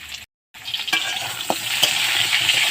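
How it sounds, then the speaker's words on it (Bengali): Potatoes fry in oil in a pan for a Bengali fish curry, with a steady close sizzle broken by a brief silent gap near the start and occasional stirring clinks. "চলো আমি আলুগুলো ভালো করে ভেজে নিই"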